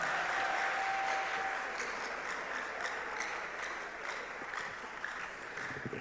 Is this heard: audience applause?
yes